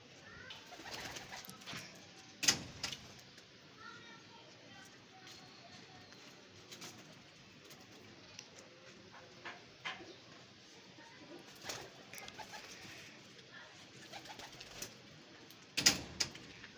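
Pigeons cooing at a rooftop loft, soft and somewhat distant, with scattered wing flaps and clatters and faint voices nearby.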